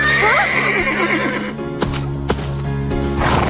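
A nervous, recently sedated horse lets out a loud, wavering whinny up close, followed by a few sharp knocks and hoof clatters.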